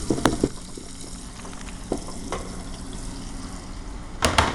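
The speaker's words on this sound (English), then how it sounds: "we're going to go ahead and sweat those off" Onions, lots of garlic and a little crushed red pepper sweating in a pan, a soft steady sizzle with a few louder clinks and knocks of utensils near the start and end.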